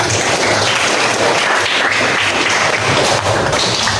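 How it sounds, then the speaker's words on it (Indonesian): Loud, dense clapping from a group of students applauding a classmate in a school session, close and continuous for a few seconds. "Tepuk tangan dulu buat temannya"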